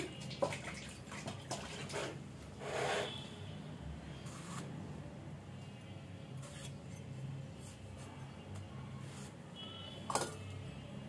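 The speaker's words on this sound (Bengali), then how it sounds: "2টা টমেটো আমি ধুয়ে কেটে নিচ্ছি" Two tomatoes are washed by hand in water, soft splashing and trickling at low level with a few faint clinks and drips.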